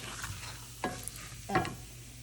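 Ginger garlic paste frying in a pan for dhaba-style matar paneer, a low sizzle broken by two short scraping shakes of the pan, close and quiet, with no talking.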